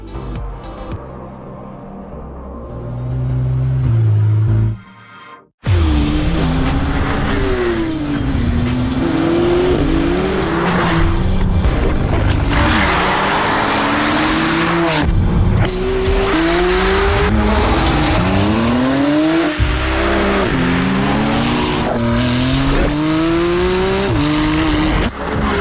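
A McLaren driven hard in Need for Speed No Limits, engine revving up and down through rapid gear changes with tire squeal and skids, loud and continuous after a brief quieter opening and a short cut to silence.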